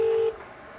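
A single telephone tone sounds steadily for about a third of a second while calling Domino's pizza, then cuts off to a faint line hiss, with no talk.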